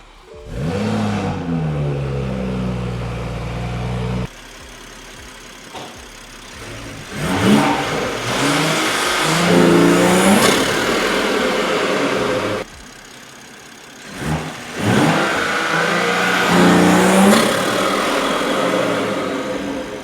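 A Toyota Supra fitted with a new intake idles, then revs hard twice in long rising bursts, loud and close, with no talking.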